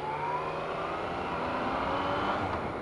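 A Yamaha XSR900 motorcycle engine hums steadily on a demo ride, a continuous moderate drone with faint rising tonal whines and no talk.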